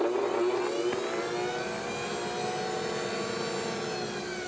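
A blower runs steadily alongside pressure and vacuum switch equipment, a continuous loud mechanical whir and hum holding even from start to finish with no talking.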